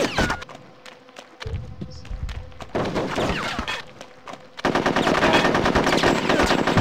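Rapid machine-gun fire and single gunshots from the video game Conker's Bad Fur Day, in loud bursts separated by brief pauses and then a sustained dense volley at the end.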